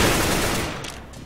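Dense automatic rifle fire from an AK in a CS:GO match, a loud rapid burst of shots filling the first second and then tailing off quickly.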